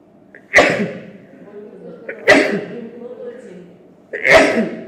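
Three loud sneezes come in a row, each a sharp burst spaced roughly two seconds apart, close to the microphone.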